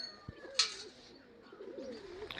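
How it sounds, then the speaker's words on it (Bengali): A golden pigeon gives a soft, low rolling coo near at hand, one drawn-out phrase after a brief tap and a short bright rustle, with quiet room noise around it. "এগুলো অ্যাকচুয়ালি গোল্ডেন পায়রা"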